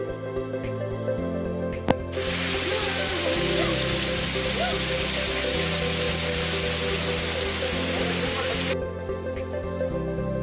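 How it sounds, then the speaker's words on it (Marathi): A small waterfall on the Harishchandragad trek near Kokankada pours water straight down onto the trail that runs beneath it, a steady, loud rushing roar lasting about seven seconds, with quieter outdoor ambience before and after. "ज्या ठिकाणी पाणी पडत आहे त्याच्या खालूनच वाट असते जाण्यासाठी।"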